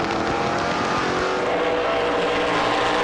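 Onboard WeatherTech Dodge NASCAR Pinty's race car at full throttle, a loud, constant, dense engine roar filling the cabin without a break.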